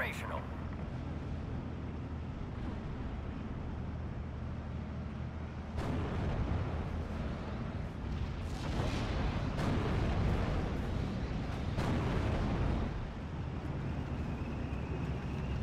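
An artillery barrage in the WWII strategy game Steel Division: Normandy 44 booms steadily through a dense, rumbling bed, with repeated heavy impacts and blasts piling up in the middle stretch and a voice talking over the bombardment.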